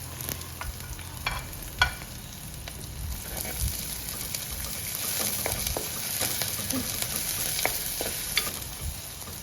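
Chopped onion stirred into ginger-garlic paste in hot oil for a Sri Lankan ambarella curry, a steady sizzle with scattered scraping clicks of the spoon against the pan, no talk.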